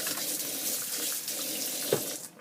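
Tap water runs steadily into a sink, with a brief clink partway through as scissors are rinsed under the stream.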